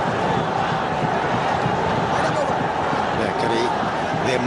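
Loud continuous roar of a capacity cricket crowd at Sher-e-Bangla National Stadium in Dhaka during an India versus Pakistan match in 2008, a dense steady murmur with shouts rising, under commentary.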